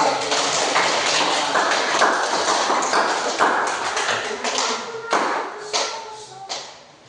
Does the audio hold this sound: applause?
yes